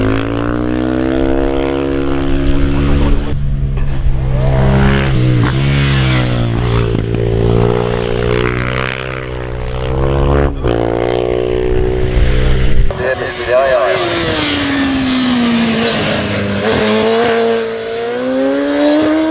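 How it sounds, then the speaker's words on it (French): A Suzuki GSX-R racing motorcycle, number 417, in the 2017 Marlhes motorcycle hill climb at full throttle: a loud engine note rising and falling through the gears, then a harsher, closer roar, with an announcer talking over it. "La GSXR numéro 417 de Benoît."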